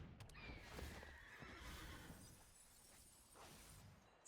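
A horse neighs with clip-clopping hooves and a glassy crash as the Ostrich Horse card is played in the Magic The Gathering Arena video game, a brief burst of game sound effects at moderate volume.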